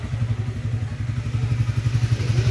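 Stock exhaust of a 2025 Triumph Speed T4 motorcycle idles with a steady, thumpy low pulse, close and loud, with no voices over it.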